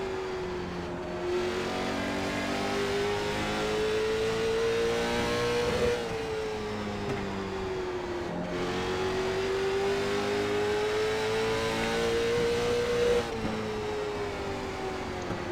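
A late model stock car engine in iRacing drones loud and steady, its pitch climbing slowly under throttle, dipping briefly at the shifts, then climbing again over about fifteen seconds.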